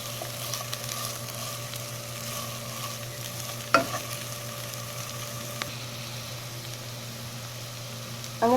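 A maida and butter mix is stirred into sautéed capsicum and vegetables in a pan, a faint steady sizzle with occasional soft scrapes and clinks of the spoon, quiet and without talk.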